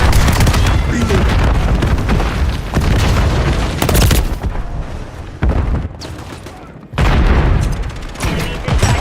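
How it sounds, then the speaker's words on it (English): A Semtex grenade is thrown and explodes in a video game firefight: heavy booming blasts mixed with dense gunfire, loud and close, while in-game voice callouts sound over the chaos. "Throwing Semtex!"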